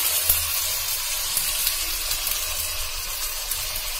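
Chopped vallarai leaves fry in a pan with coconut for a chutney, giving a steady, close hiss with no talk.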